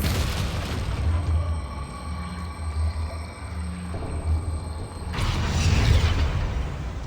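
Deep booming bursts from a Confringo explosive spell cast in the Hogwarts Legacy video game, low rumbling blasts over a continuous game soundscape, swelling into a louder explosion near the end.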